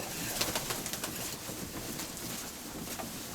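Pigeons coo faintly through a broad, hissy background, with several soft calls early on and no voices.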